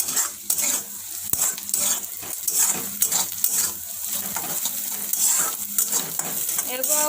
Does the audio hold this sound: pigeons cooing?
no